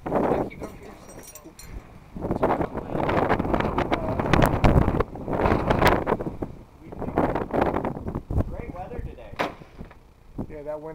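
Gusty wind blows outdoors at a rock climbing spot, buffeting the microphone in irregular rumbling bursts, with voices heard faintly at moments.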